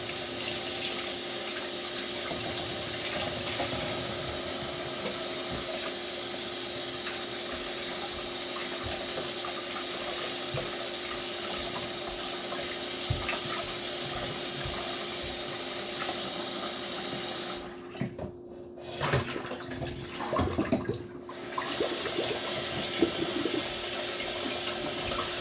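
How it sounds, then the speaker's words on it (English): A kitchen tap runs while hands are washed during meatloaf preparation: a steady, close rush of water for about twenty-five seconds, with a brief uneven splashing stretch near the end and no talking. "Let me just wash my hands."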